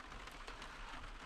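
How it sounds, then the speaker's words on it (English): Heavy rain pours outside a home as a dense, steady hiss that fills the whole moment with no break and no voices. "It is currently pouring outside. We're getting hit by rain for the next 48 hours here."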